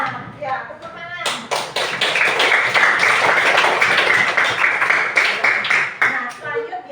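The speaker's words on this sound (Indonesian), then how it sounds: "Ya, tepuk tangan." Schoolchildren in a classroom clap hands in a dense, steady burst lasting several seconds, loud and close, framed by a teacher's voice before and after.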